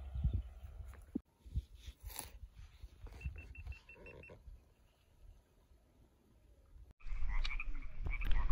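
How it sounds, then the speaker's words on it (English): Sierra tree frogs croaking outdoors in a pasture with cows nearby, repeated close, raspy calls in irregular bursts, growing louder and denser toward the end. "Got another Sierra tree frog right here."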